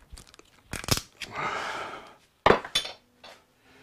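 Scraping and grinding crunch from inside a Suzuki GS1000 motorcycle carburetor, a few sharp metallic bursts and a longer gritty scrape, close up, separated by short quiet gaps.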